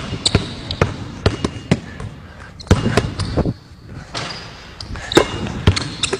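A basketball bounces repeatedly on a hard floor in quick, uneven rhythm, sharp close thuds with brief pauses and a scuff or two.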